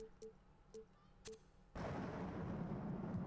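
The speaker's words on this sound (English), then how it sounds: "We'll go with the thunder" A big thunder effect used as a basketball video game's crowd sound cue, from NBA 2K19: a few short pops, then a sudden loud broadband rumble that holds steady to the end.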